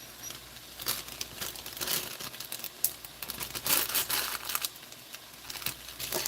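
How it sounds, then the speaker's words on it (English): Frozen green onions crumpled by hand over an enchilada dish make close, irregular crinkling and crackling bursts that come in uneven clusters. "I'm going to crumple a few of those in there"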